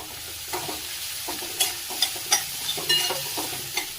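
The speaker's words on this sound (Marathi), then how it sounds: "मध्ये टाकून घेऊया बारीक चिरलेला कांदा। कांदा व्यवस्थित परतून घ्यायचा।" Finely chopped onion sautés in a pan with fried garlic and green chillies, a close sizzle broken by repeated scraping stirs of a spatula at an uneven rhythm.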